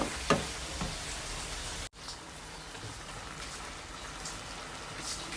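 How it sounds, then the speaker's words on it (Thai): Steady sizzling and crackling of squid, onion and tomato stir-frying in a hot pan for curry-powder squid, with a brief scrape early on and a momentary break partway through. "ผัดให้สุกนะคะ"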